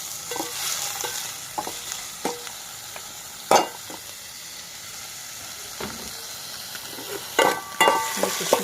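Tomatoes frying in a little oil in a pan, a low steady sizzle under intermittent sharp scrapes and clinks of a utensil stirring, close up with no speech.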